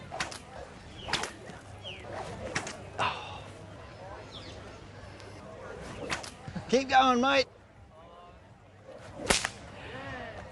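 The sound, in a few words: stockwhip cracking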